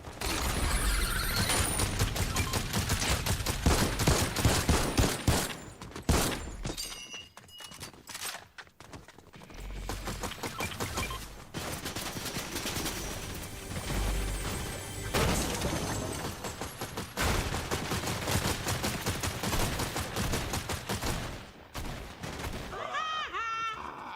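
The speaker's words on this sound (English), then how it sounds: "Where did that other shooting come from?" Gunfire crackles in the video game Fortnite, scattered shots and short bursts popping amid busy game sounds and music, with a player talking throughout.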